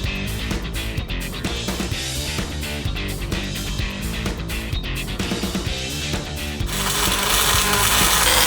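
A ratchet tightens bolts inside a welded drum, clicking in fast steady bursts that echo in the metal enclosure, loud and close, with a louder rushing noise near the end.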